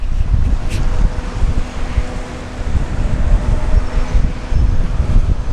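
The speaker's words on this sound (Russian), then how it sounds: "Ветер только усиливается." Strong wind roars continuously at a yacht club, buffeting the microphone with heavy low rumble and gusts that swell and ease. It is loud throughout, with no voices.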